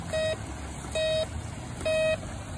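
A metal detector sounds over a target in a river, giving three evenly spaced electronic beeps of equal length, each about a third of a second, clear against a low background rumble.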